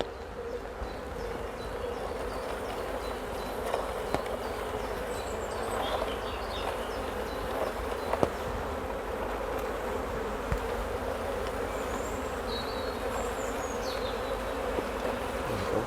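Honey bees on a hive frame hum in a dense, steady drone throughout, with occasional individual buzzes rising close to the microphone.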